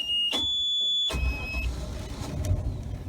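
The engine of a 1999 Rinker 24 Flotilla boat is started. A high electric whine comes first, then a low rumble catches and settles into a steady idle, loud and close with no talk.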